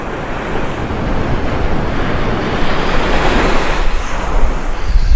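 Wind buffeting the microphone on a UK sea fishing beach at Tunstall on the east coast, a steady loud roar mixed with crashing surf throughout, with no talk.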